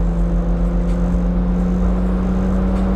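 A BMW car driving with a noticeable vibration, a steady loud droning rumble of engine and road noise with a persistent low hum throughout and no talking.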